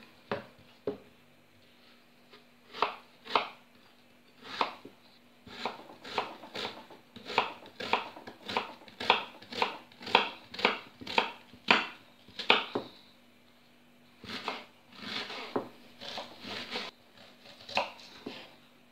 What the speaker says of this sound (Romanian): O să începem să tăiem uh, ceapa noastră.